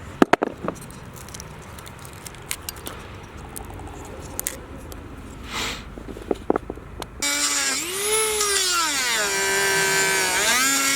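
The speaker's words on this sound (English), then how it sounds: "I switched over to this blade, this little drill bit." A small rotary drill bit carves a wooden bow handle with scratchy, intermittent grinding and clicks, then a steady high motor whine that rises and falls in pitch, close and moderately loud.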